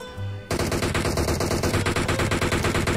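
Rapid automatic gunfire in PUBG Mobile erupts suddenly and continues as a dense, loud, close string of evenly spaced shots.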